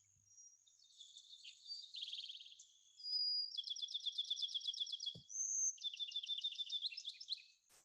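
Recorded sparrow song played back through speakers: a run of bright chirps, then two longer rapid trilled phrases with a brief pause between, clear and fairly near, with no talking over it.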